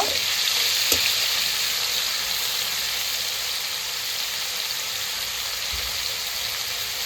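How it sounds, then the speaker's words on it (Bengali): Shrimp fry in hot oil in a wok, giving a close, continuous sizzle with a crackling texture and a couple of faint clinks of utensils. "মাছগুলো আমি ভেজে নেব।"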